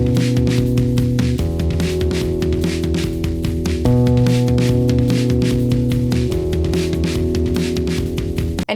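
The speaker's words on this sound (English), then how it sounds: "So without any compression, the harp's bass strings sound like this." Bass strings of a harp played without compression, sustained low plucked notes forming slow shifting chords, steady and loud with no voices.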